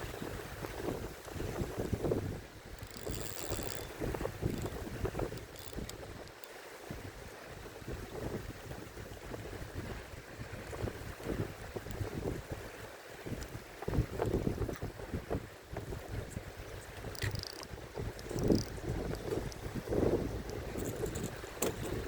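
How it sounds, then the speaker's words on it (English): Strong gusting wind roars and buffets the microphone continuously, with rumbling bursts rising and falling and no voices. "It is way too windy out here."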